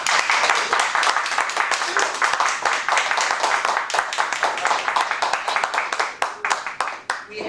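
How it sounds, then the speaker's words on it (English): Lively audience applause for club officers at a Toastmasters meeting, a close crowd of clapping hands with crisp individual claps that gradually thin out near the end. "give them a round of applause"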